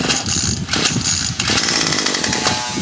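A Remington RM2570 string trimmer's small two-stroke engine, with a freshly repaired carburetor and fuel line, fires after a pull and runs loud and close with a harsh, buzzing, uneven roar.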